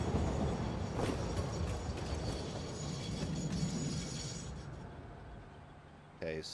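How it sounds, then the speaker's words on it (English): A train arrives in the factory-building video game Satisfactory with a loud, steady rumble and mechanical clatter that slowly fade, followed by a brief chime-like tone at the end. The rumble sits behind some faint background noise. "Hey, the train is back."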